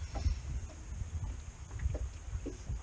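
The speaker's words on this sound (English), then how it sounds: "We do have a little bit of wind" Wind buffeting a microphone on a fishing boat trolling for white bass and hybrid bass, a low uneven rumble with soft gusting pulses and faint water and hull knocks, fairly quiet and without voices.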